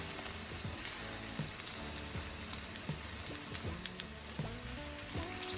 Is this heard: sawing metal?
no